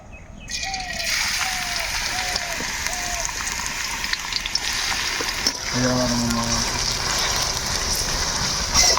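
Onions sizzle in hot oil and butter in a kadai with a constant crackling hiss, close by, while a person talks over the frying.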